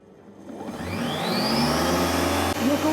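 A Hoffen Smart Chef kitchen robot motor spins up from quiet to a loud, steady high-pitched whir that holds at full speed, close and continuous with no talking.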